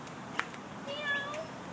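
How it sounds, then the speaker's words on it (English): A large domestic cat gives a brief, faint meow in a quiet room, with a soft tonal rise and fall under low background noise. "Yeah, no, he's a giant cat."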